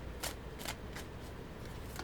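A deck of cards is shuffled in several quick riffling bursts, close up, with short pauses between them and no talking.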